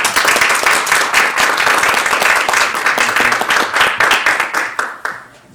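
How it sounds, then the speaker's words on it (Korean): Dense audience applause at a Korean AI-DX future forum seminar in Pangyo, loud and steady clapping from a seated crowd that fades out at the end. "여러분 큰 박수로 맞아주세요."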